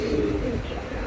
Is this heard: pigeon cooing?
yes